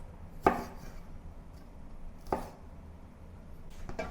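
Three sharp, close knife chops on a cutting board, spaced about two seconds apart, as garlic cloves are cut in half in a home kitchen.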